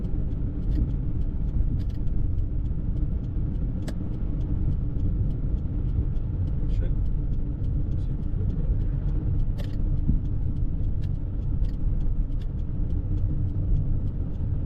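A car drives down a pitch-black road at night on a food delivery run, its steady engine and road rumble continuous and fairly close, with faint clicks and ticks over the drone.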